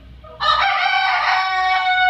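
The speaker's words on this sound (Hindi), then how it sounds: "ये इन तमाम मुर्गियों में एक मुनफरद मुर्गी है" A desi chicken on a Pakistani poultry farm crows loudly nearby, one long sustained call rising sharply after a quiet moment and holding strong to the end.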